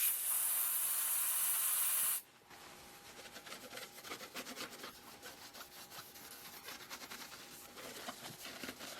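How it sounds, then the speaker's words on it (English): Brake cleaner sprayed from an aerosol can onto the oily head surface of a John Deere 1010 engine block under rebuild, a loud continuous hiss for about two seconds, then quieter rubbing and handling sounds. "Now I want to brake clean this surface and get all the oil off of it"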